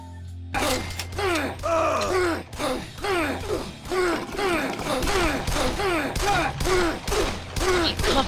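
Gunfire in the video game Shoot Many Robots: rapid, repeated bursts of shots in a steady rhythm, loud and close, with sliding electronic tones and faint groaning effects running along underneath.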